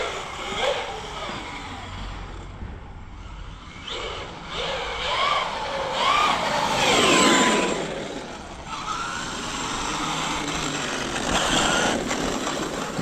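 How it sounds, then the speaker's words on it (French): Homemade falconmobile car's engine drives forward again after reversing, a steady mid-pitched motor hum that swells in the middle and continues throughout, with faint background noise. "Ça repart en marche avant sec."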